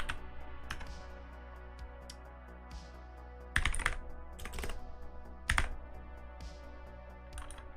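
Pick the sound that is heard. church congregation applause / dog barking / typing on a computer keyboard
typing on a computer keyboard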